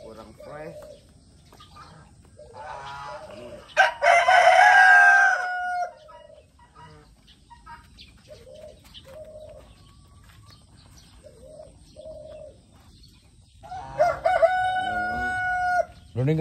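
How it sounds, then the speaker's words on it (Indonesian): Roosters crow loudly nearby twice, with softer clucking and cooing from fowl in between and some talking under it. "Ada ayam."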